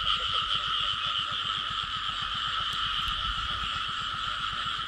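Frogs croak in a field after heavy rain, a dense, steady chorus of rapid rhythmic croaks with a continuous high trilling drone, close and loud throughout.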